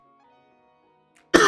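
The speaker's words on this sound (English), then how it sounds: "Sorry for the coughing, I'm sorry." A single sharp, close cough from a man who is ill breaks out at the very end, after a second of near-silence.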